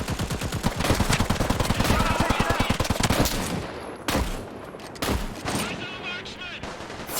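Rapid automatic gunfire in the shooter video game Caliber, a dense burst of loud repeated shots for about three seconds, followed by scattered single reports and a brief spoken voice.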